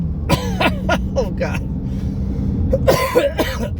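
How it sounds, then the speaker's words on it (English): A person speaks briefly, then a burst of rough, hacking coughs comes close to the microphone near the end. "I have a cough I can't seem to get rid of."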